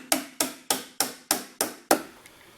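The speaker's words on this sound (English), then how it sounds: "when you're ever hammering a nail into the wall" A hammer driving a nail into a wall, seven sharp evenly spaced strikes in steady rhythm, each ringing briefly before the next, close and fairly loud with no talk.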